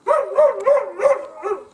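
A dog barks near and loud in a cold, frosty yard at sunset, letting out a run of five or so yelping, whining barks in an uneven rhythm with no one talking.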